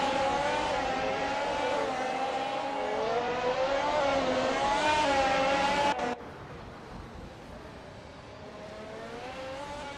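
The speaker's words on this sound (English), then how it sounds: "Shi Cross is making a strong move, now in 20th place after overtaking 5 cars." Race cars roar together in a sustained, loud engine drone, with rising and falling revs as they overtake one another, and a sudden drop in level partway through as the pack moves on. No one speaks.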